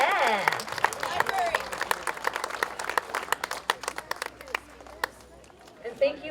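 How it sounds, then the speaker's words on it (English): Crowd at a playground build in a Rockland park cheering and clapping together, a dense burst of applause and shouts that fades after about five seconds, with voices speaking over it. "Can we get a big cheer for everyone who worked on those?"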